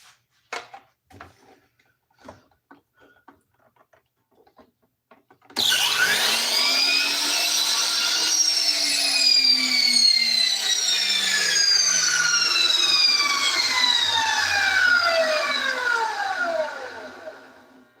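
A power saw trims wooden pen blanks for lathe turning: after a few light knocks and taps, a loud steady cutting whine with a falling pitch starts and runs for about twelve seconds before winding down.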